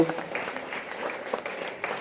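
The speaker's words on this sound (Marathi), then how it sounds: "टाळ्या वाजवा" Audience applause at a district-level English elocution competition prize distribution ceremony in Solapur, a steady patter of clapping from a crowd lasting a couple of seconds, moderately loud throughout.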